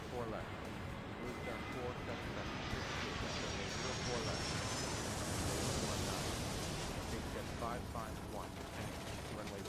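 Jet airliners take off in the air traffic control game Airport Madness 3, a steady broad engine roar filling the whole stretch while a voice talks over it.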